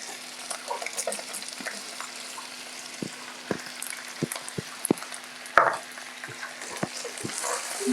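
Onions frying in a little oil in a pot, a quiet, steady sizzle broken by repeated clinks and scrapes of a stirring spoon, with one louder clatter midway.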